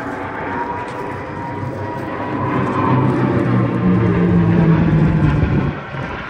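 Merlin-engined warbird aircraft flying at an airshow at Sywell, a steady loud propeller engine drone that swells and then eases away near the end.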